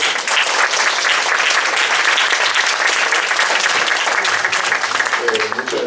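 An audience at a popular university in Tres Cantos, Madrid, applauding a visiting lecturer after a philosophy talk: loud, dense, sustained clapping from a full room throughout.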